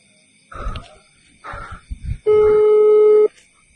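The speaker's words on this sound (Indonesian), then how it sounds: "Udah aku coba telepon Mbak Warso lagi lur." A single telephone ringing tone sounds as one steady, clear electronic burst lasting about a second, following some short indistinct noises and a brief voice.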